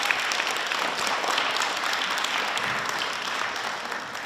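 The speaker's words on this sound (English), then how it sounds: "Please give them a big hand" Audience applause for the teams at a Battle of the Books final fills the room as dense, sustained clapping, steady and moderately loud throughout.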